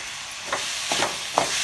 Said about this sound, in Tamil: தக்காளியும் போட்டு நல்லா வதக்கிட்டே இருக்கணும்.